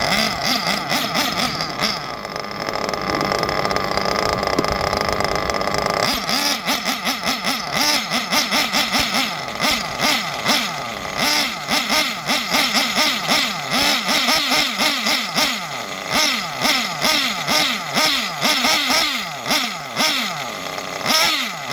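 A nitro RC engine runs loud and close, first holding a steady high whine, then pulling hard near full throttle with a rapid, rich, wavering buzz that surges and dips repeatedly.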